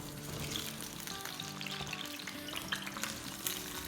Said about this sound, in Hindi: तो अब ये तेल जो है हमारा थोड़ा थोड़ा गर्म हो गया है, तो इसको हम डालते हैं और फ्राई करते हैं